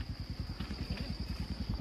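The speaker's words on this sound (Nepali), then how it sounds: "क्लच पुरै छोडिदियो क्या यत्तिकै गुड्छ बाइक आनन्दले" A motorcycle coasting with the clutch fully released, a low, rapid engine pulse rumbling steadily and close with a faint high whine above, no talk.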